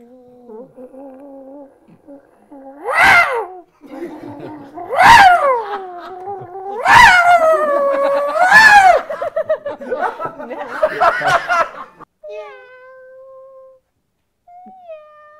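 A person imitates a cat, voicing a series of loud drawn-out meows and wails with rising and falling pitch, separated by short pauses, then trailing into softer squeaky cries near the end.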